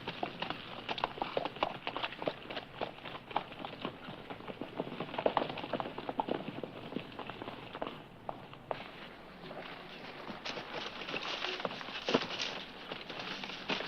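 Steady clip-clop of horse hooves on hard ground, a continuous irregular patter of hoofbeats at moderate distance, with no voices.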